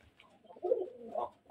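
Native deshi pigeons kept in an enclosed rooftop pigeon farm give soft, throaty coos that swell from faint murmurs into a fuller, nearby cooing phrase, with no talking.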